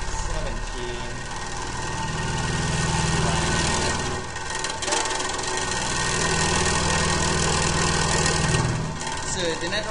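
A vibrating beam test rig with a tuned mass damper drones and buzzes steadily as the shaker drives it through rising frequencies, with a voice talking over the hum.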